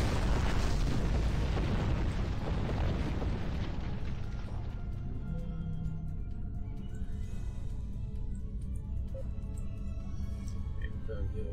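Starship weapons fire and explosions in the space combat game Star Trek Online, a loud continuous barrage of booming blasts that dominates at first and then eases into a lower rumbling with lighter bursts, with voices over it.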